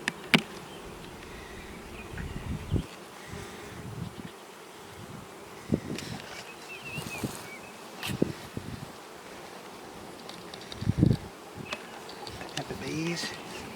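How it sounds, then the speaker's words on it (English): Honeybees buzz steadily around a backyard hive on a bright day, a dense insect drone with individual bees zipping close past the ear, plus occasional rustles and handling knocks. "Bees."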